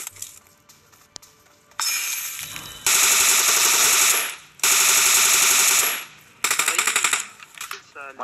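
Rapid automatic gunfire inside Rozhok in PUBG Mobile: several long, loud bursts of shooting with brief pauses between them, a final choppier burst, and faint game sounds in the quieter gaps.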